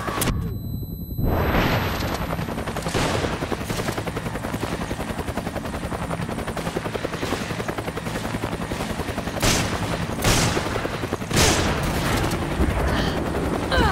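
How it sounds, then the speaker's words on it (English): Gunfire rings out in the video game Resident Evil 5, with sharp bursts of shots cracking over a constant loud, roaring rumble of game action; no voices are heard. "Gunfire!"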